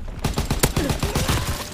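FG42 rifle gunfire in Call of Duty: WW2, a rapid string of automatic shots cracking in quick succession, loud and close throughout.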